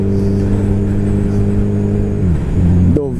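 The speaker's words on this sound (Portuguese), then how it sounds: "Hornet 250 cilindradas, 4 cilindros." A Honda Hornet 250 cc four-cylinder motorcycle engine runs loud and close in a high, steady tone, dips briefly near the end, then revs sharply upward.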